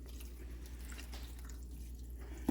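A cup and a half of water poured from a cup into ground venison being mixed for homemade kielbasa: a soft, steady trickle close by, ending with a small bump.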